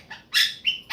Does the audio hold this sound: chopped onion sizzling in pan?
no